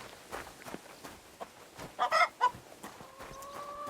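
A chicken in the video game Kingdom Come Deliverance 2 gives a quick burst of several close clucks amid faint background game noises, followed by a short higher call.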